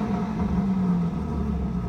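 A BMW G82 M4 fitted with an aftermarket exhaust rumbles steadily at close range, a low droning engine tone holding for a couple of seconds without any voices.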